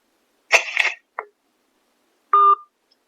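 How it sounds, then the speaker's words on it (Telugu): A mobile phone gives a few short dialing tones alone in a quiet room: two quick blips together, a brief chirp, then one longer steady tone. "అవును, నీకు ఫోన్ చేస్తా."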